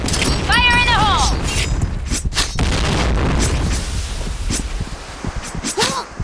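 A grenade goes off in the Point Blank shooter game, a loud booming burst that follows a shouted in-game voice line, set against a constant rumble of battle noise.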